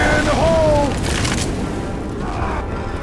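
A grenade goes off in The Parish on expert mode, a single loud boom with a broad burst that rolls into a rumbling tail over a few seconds, with a voice briefly heard near the start.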